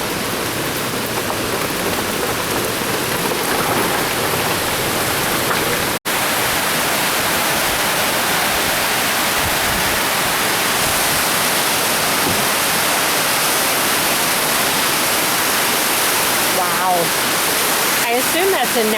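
A waterfall on a nature trail at a golf cart cave tour pours in a steady, loud broadband rush that fills the whole clip, with faint voices mixed underneath.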